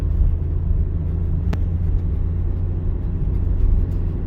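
A car on a driving-lesson route rolls along in second gear at about 35 km/h, giving a steady, close engine and road rumble that stays even throughout with no talking.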